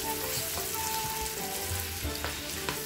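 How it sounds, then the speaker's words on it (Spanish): Vegetables colored with achiote sauté in a pan for gardener rice, a steady close sizzle with soft crackles and a couple of utensil clinks, moderately quiet, without speech. "dejamos que se sofrían un poquito"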